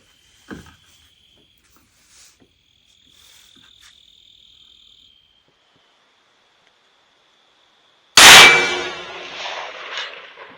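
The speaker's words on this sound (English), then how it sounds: "So to be able to hit a gong at 400 metres" A single bright metallic clang rings out as a rifle bullet strikes a small 6-inch steel gong about 400 metres away during a feral animal shoot, the hit following a faint shot and a long quiet wait with insects humming.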